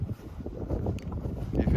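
Wind gusting across open desert dunes at a campsite, buffeting the microphone with low rumbling roar throughout; a voice is also present briefly.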